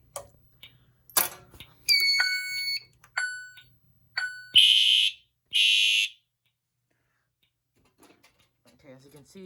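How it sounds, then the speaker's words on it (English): A smoke detector is set off on a fire alarm system under test, producing a run of bright electronic chirps and tones, then two loud, harsh alarm bursts about a second apart, with a voice briefly heard early on. "now I'm gonna activate the smoke detector."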